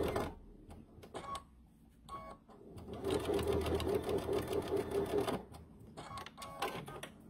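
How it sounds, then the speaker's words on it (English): A sewing machine runs in a quilting session, stitching fabric in short rapid bursts and then a longer steady whirring run in the middle, close and fairly loud, with brief pauses between stretches. "So I'm just going to sew this and then I'm going to show you the differences."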